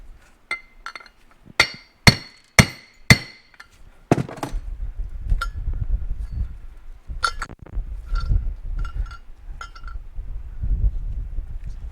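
Sharp metallic hammer strikes on a Suzuki TS250 motorcycle part ring out close by, a quick run of four loud blows followed by lighter scattered taps over a low rumble.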